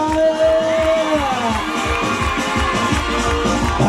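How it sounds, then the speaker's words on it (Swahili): A party crowd at a nighttime celebration cheers and shouts continuously over loud thumping dance music with a steady beat, voices whooping close and busy throughout. "Piga kelele kwa Kombolea."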